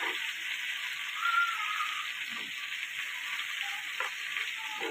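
Rupchanda pomfret fish frying in a pan gives a steady, close, bright sizzle with small crackles and pops, no voices over it.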